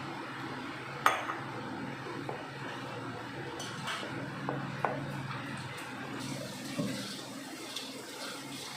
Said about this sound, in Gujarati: હવે આપણે એમાં થોડું પાણી એડ કરતા જઈશું અને હલાવતા જઈશું.